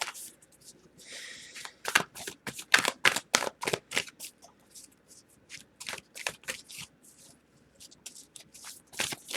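Tarot cards being shuffled by hand: a quick run of crisp riffling flicks and slaps, fairly close and steady, with no talking.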